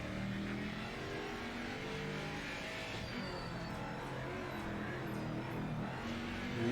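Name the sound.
Jaguar race car engine in Project Motor Racing video game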